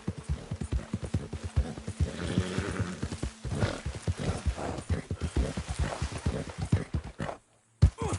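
Steady, rhythmic clip-clop of horse hooves in Red Dead Redemption 2, loud and close, with a brief whinny and some creaking in the mix before the sound cuts out near the end.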